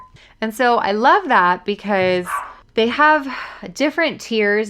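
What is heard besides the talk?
dog barking in the background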